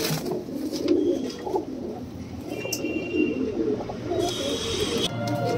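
Pigeons of the Kalsire and Chaapdaar breeds coo steadily at close range, with low, soft calls repeating over a constant background murmur.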